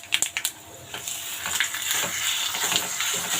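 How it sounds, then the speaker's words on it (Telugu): Gongura chutney stirred into a hot fried tempering in a pan: a few sharp spoon scrapes and knocks at the start, then a continuous close sizzle with soft stirring scrapes. "ఇది ఒకసారి బాగా కలిపేసుకుందాము. ఈ పోపులన్నీ బాగా కలిసేటట్టు కలిపేద్దాం."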